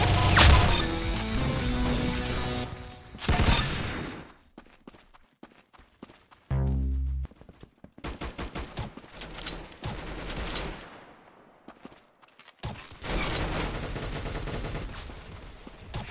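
Gunfire in the Roblox shooter Arsenal comes in loud bursts of rapid shots and sharp impacts, separated by short quiet gaps, with game sounds in between.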